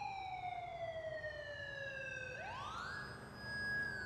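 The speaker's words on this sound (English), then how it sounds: "Oh, here comes the ambulance." Wailing ambulance siren in the video game GTA 4, a loud sweeping tone with harmonics that dips steadily, then jumps up into a higher, faster yelp as the vehicle comes close.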